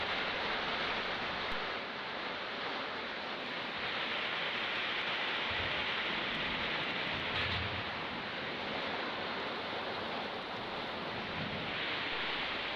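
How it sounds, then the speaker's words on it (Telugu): Steady heavy rain falls during a downpour while cows graze, a dense continuous hiss that stays loud and even throughout with no voices. "వర్షం వస్తుంది"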